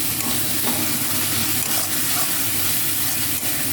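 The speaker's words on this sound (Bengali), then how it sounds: "জল দিয়ে খেতে মশলাটা ভালো করে কষিয়ে নেবো" Ground spice masala for a Bengali-style crab curry fries and sizzles in a pan with water added, a loud continuous hiss with faint stirring scrapes and no voices.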